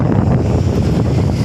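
Wind at Digha sea beach buffets the microphone in a loud, steady low roar for the full second and a half, with no voices heard.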